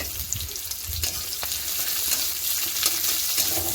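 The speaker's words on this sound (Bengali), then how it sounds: "গরম হয়ে যাওয়ার তেলে দিয়ে দিলাম পেঁয়াজ লঙ্কা" Onion and chili hitting hot oil in a heated wok-style kadai, a continuous close crackling sizzle with a few sharp spits and faint clatter, no voices.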